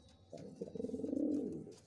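Chuachandan pigeon cooing, a single drawn-out rolling coo that swells and fades, close and moderately loud with no talk.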